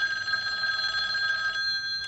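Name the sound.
telephone ringing in the film Friday the 13th Part 2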